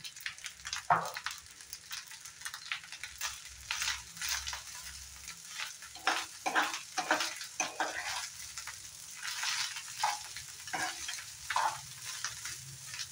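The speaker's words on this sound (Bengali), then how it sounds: "এইভাবে আমি কিছু সময় ফ্রাই করে নেব" Egg fried rice fries and is stirred in a pan, quiet crackling sizzle with irregular scraping and tossing bursts of a spatula through the rice, fairly soft and close, no voices.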